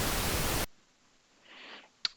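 Loud, steady pink noise plays as a test signal, a dense even hiss that cuts off abruptly after under a second, leaving near silence, a faint soft rustle and a sharp click at the end.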